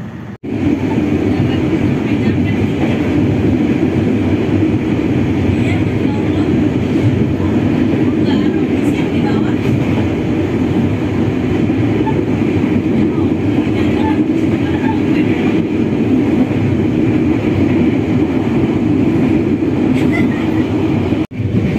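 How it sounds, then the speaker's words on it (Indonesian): The Ranggajati passenger train at Ketanggungan station makes a loud, continuous rumble of rolling wagons with faint clatter, steady throughout; a voice may be faintly audible under the noise. "Ini lagi menunggu jam keberangkatan dari stasiun Ketanggungan ya, kereta api Ranggajatinya."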